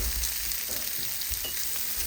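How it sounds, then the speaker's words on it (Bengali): Tomatoes and red pepper roasting in a little olive oil with salt and crushed red chili, sizzling steadily and close with faint crackles and pops, no voices. "এই জন্য টমেটো আর রেড পেপার সামান্য একটু অলিভ অয়েলে রোস্ট করে নিচ্ছি"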